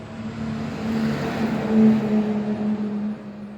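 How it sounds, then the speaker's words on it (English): A school bus rolls past with a low engine hum that grows louder toward the middle, then fades as it moves away, heard alone. "School bus."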